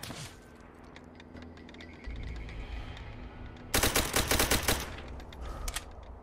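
In Call of Duty: World at War, gunfire starts as scattered shots under game noise, then a loud, rapid burst of automatic fire lasts about a second, followed by rumbling ambience.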